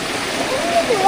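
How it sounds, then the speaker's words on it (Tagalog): A big river flows with a broad rushing, splashing wash of water, loud and continuous through the short moment, with a faint whistle-like tone near the end. "Dito kami sa malaking ilog."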